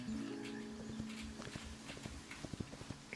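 Hooves of a horse in the video game Hytale clip-clop in a quickening run of sharp, close steps, growing louder and denser toward the end, with no talk over them.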